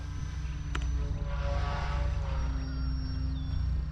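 An E-flite Turbo Timber Evolution RC plane flies overhead on its maiden flight, its electric motor and propeller whining steadily with rising and falling pitch over a low rumble of wind, no voices.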